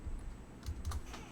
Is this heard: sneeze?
no